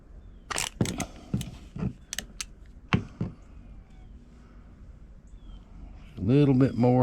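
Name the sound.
wrench tightening a bolt on a fish finder mount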